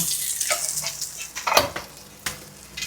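Dorado fish sizzling on a grill as it is lifted off, with soft frying crackle and a few light metallic clinks and scrapes of utensils.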